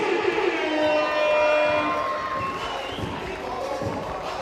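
A packed basketball championship crowd at Essex Rebels vs Oaklands Wolves cheers and shouts for the finalists, a loud broad roar that swells and then slowly tapers off.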